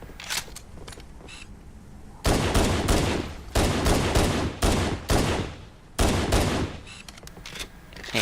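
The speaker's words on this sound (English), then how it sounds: "shoot the grunts with the pistol" Pistol fire at grunts in Halo, loud close shots in uneven clusters and quick single cracks over several seconds, with brief pauses between volleys and no speech.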